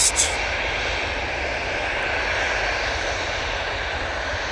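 An easyJet airliner departing Manchester Airport for Belfast roars continuously with a strong broadband engine noise and low rumble, a brief bump at the very start, then even and loud with no talk.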